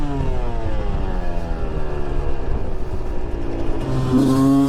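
An enduro motorcycle engine revs loudly and close, holding a strong steady drone with pitch shifting slightly before a sharper rise near the end.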